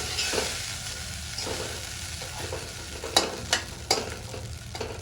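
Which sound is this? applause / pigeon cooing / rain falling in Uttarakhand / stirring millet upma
stirring millet upma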